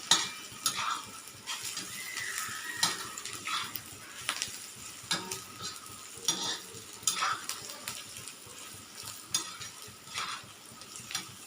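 Onion sautés in a pan for a Marathi karatoli wild vegetable dish, giving a continuous close sizzle with bursts of crackle and the scrape of a stirring spoon throughout.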